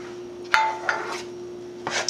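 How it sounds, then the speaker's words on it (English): A utensil stirs butter as it melts in a pan on high heat, making a few distinct scraping clinks and rubbing strokes against the metal, close and isolated, over a faint steady hum. "just gonna stir it just to get it melted faster"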